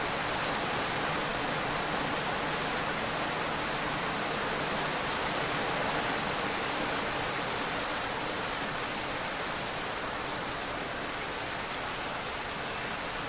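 Steady rain in a Roblox game pours down, a dense, even hiss that stays constant throughout without any talking.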